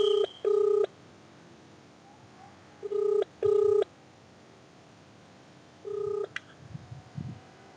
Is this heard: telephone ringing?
yes